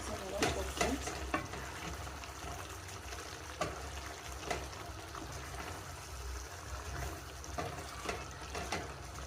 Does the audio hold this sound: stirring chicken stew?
yes